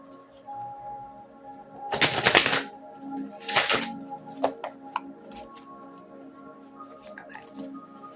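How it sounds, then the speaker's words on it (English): Two short bursts of shuffling cards, riffling briskly up close, followed by a few light taps and clicks in an otherwise quiet room. "So let me shuffle and then I'll just pull them."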